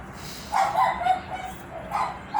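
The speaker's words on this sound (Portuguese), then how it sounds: "cheio de cães aqui ao redor, mas nenhum é meu." Several dogs barking somewhere around the area, not too close: a couple of short bark bursts, a pause, then another bark, over low ambient background noise.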